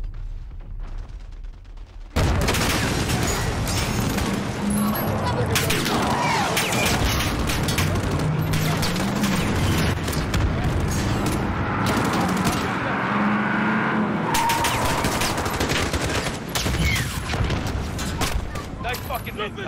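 In the Call of Duty Modern Warfare video game, a missile strike lands with a heavy boom, then rapid bursts of gunfire and crashing impacts continue loud and dense, with voices speaking over the battle.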